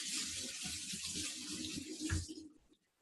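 Running tap water pours steadily over soaked nuts in a sink for rinsing, a broad close hiss that stops abruptly near the end, leaving near silence.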